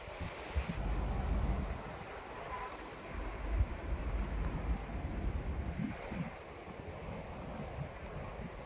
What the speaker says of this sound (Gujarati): જો પવન છે